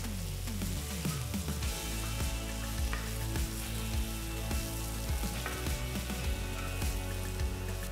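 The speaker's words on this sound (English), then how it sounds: "Next, I'm going to add the capsicum pieces." Capsicum pieces sizzle steadily in a pan of mushy tomatoes for a tawa paneer dish, a dense continuous frying hiss with occasional pops and light stirring, close and unbroken throughout.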